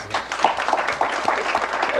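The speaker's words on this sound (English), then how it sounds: "If you could join me with a round of applause" An audience gives panelists a round of applause at a 2017 talk, a loud, dense burst of clapping from a full room that continues steadily for a couple of seconds.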